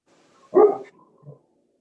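A dog barks once sharply, followed by a softer short yip, heard close and alone against near silence during an online board meeting.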